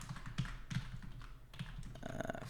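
Computer keyboard typing during a software programming session, with scattered key taps and clicks in an irregular rhythm, fairly close and moderately loud.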